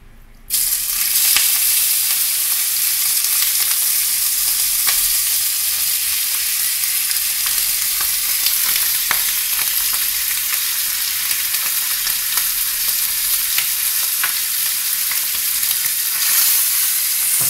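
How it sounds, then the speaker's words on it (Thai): Bacon fries in a pan for a soup, giving a loud, steady, close sizzle that hisses without a break, with an occasional faint tick of movement and no talking. "จากนั้นเราก็จะใส่เบคอนลงไปครับ"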